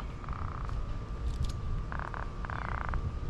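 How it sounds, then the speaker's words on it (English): A baby croaker fish, caught as bait off a dock, gives a few short buzzing croaks in bursts over a steady outdoor background hiss. "See if I can get him to croak."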